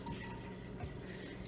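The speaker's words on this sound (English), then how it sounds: "I'm just grabbing water right now." Cold water from a fridge's filtered water dispenser runs steadily into a pitcher, a close, even, rushing pour with no pauses and no talk.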